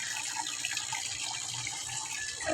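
Water runs and splashes steadily during a water change in a backyard tilapia fish tank, continuous and fairly close with no talk.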